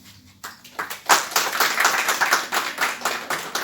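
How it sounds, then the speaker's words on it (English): An audience at a Raja Yoga session starts clapping in a few scattered claps, then builds into a brisk, rhythmic round of applause that carries on throughout. "So give a big clap then."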